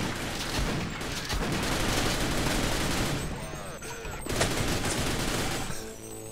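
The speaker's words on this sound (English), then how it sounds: "Hey, bad soldier shot me! He shot me!" Soldier gunfire in the Half-Life video game, sustained dense bursts of shots that run nearly throughout, loud and close, with a brief lull near the middle before firing resumes.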